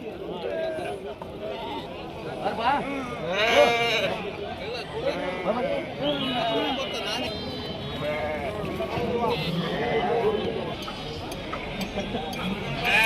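Sheep and lambs bleat repeatedly at a rural livestock market in Koppal, the calls layered and fairly close over steady crowd chatter and people talking, with occasional light clinks.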